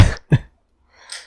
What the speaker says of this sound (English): I laughed until I coughed.